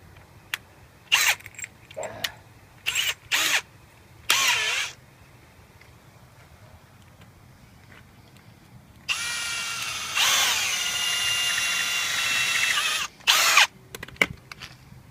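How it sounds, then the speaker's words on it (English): Power drill boring into the plastic top piece of a massage roller stick, several short whirring bursts followed by a longer sustained drilling run, then a few more quick bursts, close and loud over quiet room noise. "I may have to drill that just a little bit bigger on that top piece of plastic there"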